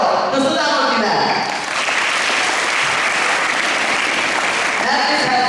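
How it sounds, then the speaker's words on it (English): An audience at a school co-curricular event applauds a guest, a dense, loud wash of clapping filling the room, with talk heard over it at the start and again at the end. "give a big hand of applause to Sudhamurti ma'am."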